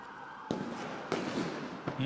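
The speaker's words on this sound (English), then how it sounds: "More flashbangs." Flashbang stun grenades go off at a street protest in Los Angeles, three sharp blasts about half a second apart, loud and echoing over crowd noise.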